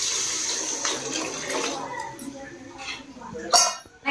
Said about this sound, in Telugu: ఈ చింతపండు రసం అనేది వేస్తున్నా చూడండి మరి